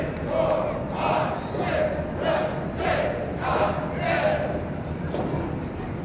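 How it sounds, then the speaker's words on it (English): Wrestling crowd at an NWA show at the Ohio State Fair roars and chants in rhythmic surges, rising and falling about once a second, loud and sustained with no commentary over it. "Listen to the crowd."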